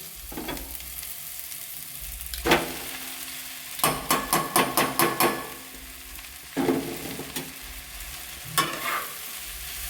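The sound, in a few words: stirring flattened rice into fried vegetables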